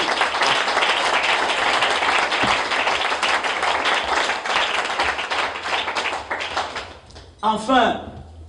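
A church congregation claps in loud, sustained applause for several seconds, thinning out near the end as a voice begins speaking over the fading claps.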